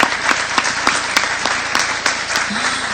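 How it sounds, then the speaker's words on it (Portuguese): Applause from an audience at a public management event in Brazil, clapping steadily throughout with sharp individual claps standing out, fairly close and sustained. "a gente aqui do palco aplaude vocês por estarem aqui"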